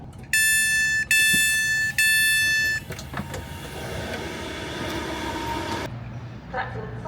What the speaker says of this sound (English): So the train has finally arrived, but unfortunately this is only going as far as Stafford now, not Crewe.